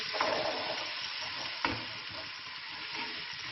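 Carrots frying in a pan for egg fried rice, a steady, fairly quiet hissing sizzle with a single stirring knock.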